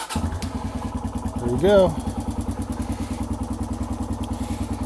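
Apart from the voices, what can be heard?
Kawasaki KLX140G dirt bike engine starting and idling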